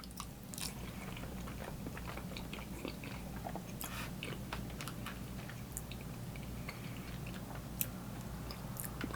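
Crunchy bites and chewing of bacon mac and cheese with a Parmesan breadcrumb topping, close-up mouth sounds with irregular crisp crunches and soft squishes, no talking.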